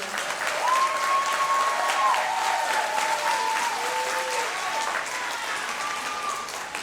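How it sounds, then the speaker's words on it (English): Graduation ceremony audience clapping for the graduates, a sustained wash of applause from a large crowd with some whistles or cheers and faint voices underneath. "your graduates are great. Can we clap for them?"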